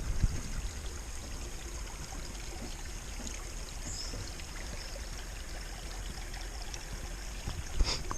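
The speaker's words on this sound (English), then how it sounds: "Just barely a creek." Small, barely-there creek of stained water trickling steadily in the woods on a springtime hike, a faint continuous babble with no voices.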